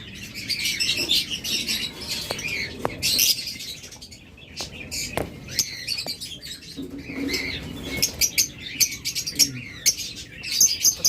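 A roomful of caged budgerigars, cockatiels and lovebirds sold as breeding pairs keeps up steady overlapping chirps and tweets, with occasional flutters and scratchy rustles nearby.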